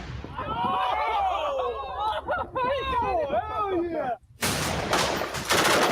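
A dense, chaotic clamour of shrill whistling tones gives way to a harsh, continuous roar of rapid gunfire bursts.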